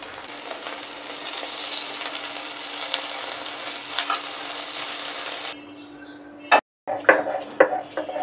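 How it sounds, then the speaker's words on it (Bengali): Chapa shutki, fermented dried fish, fries steadily in a pan with a dense, continuous sizzle for about five seconds, then cuts out and gives way to a few sharp clatters and stirring knocks. "আর হলো চাপাটা ভাজা নিলাম।"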